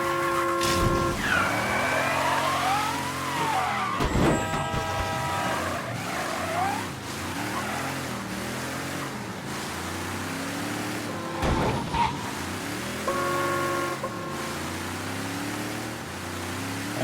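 A car engine in Mafia 3 revving and driving, a steady loud motor hum with rising and falling gear shifts and brief gaps, no talking.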